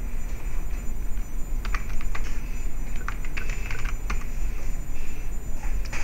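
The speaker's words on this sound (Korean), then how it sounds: "제가 글씨를 하나 이렇게 타이핑을 해보겠습니다" Clicky keystrokes on a computer keyboard come in a quick, irregular burst with short pauses, close and moderately loud over a steady background hum, with nobody speaking.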